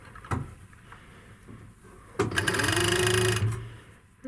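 A sewing machine stitching a skirt seam runs in a short, loud, steady mechanical whir for about a second, framed by a few soft clicks and handling knocks before and after.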